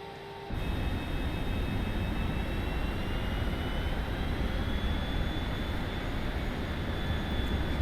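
An airliner taking off in Microsoft Flight Simulator 2024, where a loud, steady engine roar rises abruptly after a brief quiet start and holds evenly with a faint high whine above it, with no talk.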